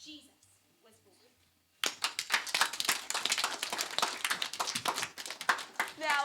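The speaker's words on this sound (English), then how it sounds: "Let's give Elizabeth a round of applause." An audience bursts into lively clapping after a Christmas play, dense close applause starting abruptly and continuing steadily, preceded by quiet murmuring and a brief voice at the end.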